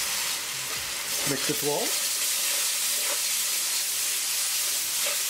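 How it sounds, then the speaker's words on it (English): Tomato sauce sizzles and hisses in a hot pan of cooked spices for a mushroom curry, a steady frying sound under brief talk while it is stirred. "Add tomato sauce, half can."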